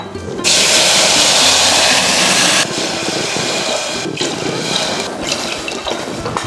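Water is poured into rice for khara pongal, a loud, close rushing gush lasting about two seconds before settling into a softer, steady trickle and slosh.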